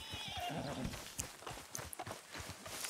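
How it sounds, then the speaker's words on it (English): A horse in Red Dead Redemption 2 gives a loud whinny, followed by quick clip-clop hoofbeats of the game horse moving, close and clear with no speech. "Get your horse."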